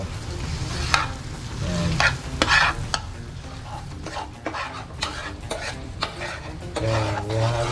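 Beef Knorr cubes are stirred and melted in a sizzling pan, with steady frying hiss under repeated scraping and clinking strokes of a utensil against the pan, and a brief spoken word partway through.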